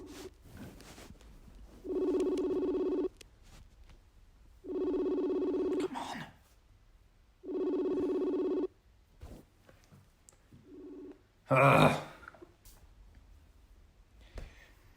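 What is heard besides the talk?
telephone call ringing tone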